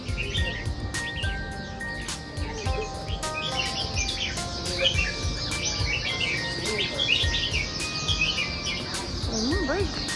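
Several birds chirp and sing in a bird singing corner at a Singapore HDB estate, with overlapping tweets and trills, some near and some farther off, over a steady background hum and faint voices.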